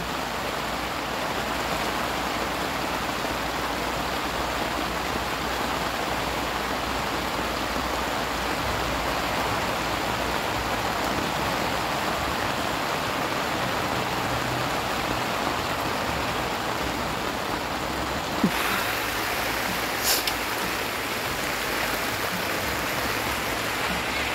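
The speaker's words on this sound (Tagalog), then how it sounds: "Kaya siguro ngayon, malakas yung ulan" Heavy rain from a thunderstorm falls on a roomy tent at an overnight campsite, a dense, steady hiss with no pauses that runs throughout, broken by a couple of brief sharp knocks near the end.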